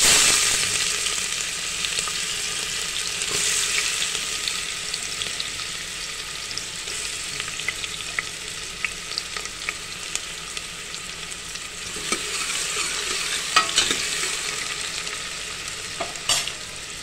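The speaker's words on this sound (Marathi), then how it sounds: "आपण तेलामध्ये आता कांदा टाकतो" Chopped onion sizzles in hot oil in a pressure cooker at the start of a village-style mutton rassa, a steady close hiss broken by occasional scraping stirs, with no voices.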